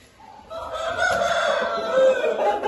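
A rooster crows nearby on a Brazilian poultry farm, one long drawn-out call rising and holding strong before trailing off, heard on its own.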